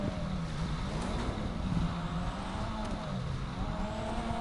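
Toyota Supra, the Jester Classic, accelerating down a straightaway in GTA 5, the engine note climbing and dropping through gear changes at a moderate level, steady and unbroken without speech.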